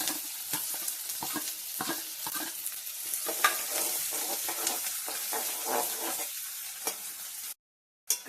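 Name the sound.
onion frying with cumin and garam masala in pan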